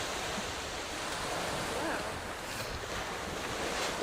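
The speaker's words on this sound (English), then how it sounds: "It's very cold, very windy." Cold, gusty beach wind in Suffolk buffets the microphone in a continuous low roar, with surf-like rushing underneath and no one talking.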